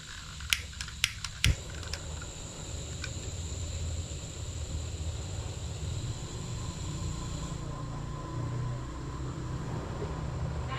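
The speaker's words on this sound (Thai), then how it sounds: "มีเสียงแก๊สออกแล้วครับ" A few sharp clicks at the start, then a steady, even hiss of gas from a camping gas lantern that continues unbroken, close by and moderately loud.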